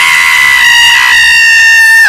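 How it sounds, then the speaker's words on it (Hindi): A man screams in terror in a Hindi horror story, one long, very loud sustained shriek that holds steady before breaking off at the end, alone and up close. "ऋषि की चीख सुनकर रुके।"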